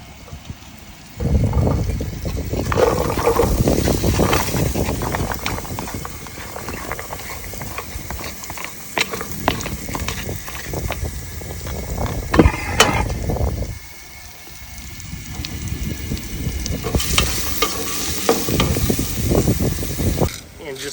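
Onions tumble into about two tablespoons of melted butter in a pot on an outdoor stove by a lake on a cold summer night, setting off a loud, continuous sizzle with clanks and stirring as a voice talks over it, briefly easing before resuming.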